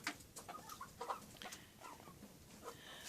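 Chickens, including some roosters, cluck and murmur softly in a group, scattered short calls overlapping at a low volume, no one speaking.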